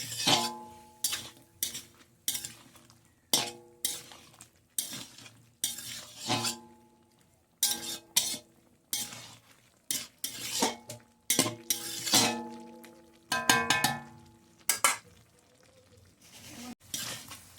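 A metal spoon stirs spice paste with a little water in a pan for shukto, producing repeated sharp clanks and scrapes against the pan over a faint sizzle, uneven bursts close up with no talking.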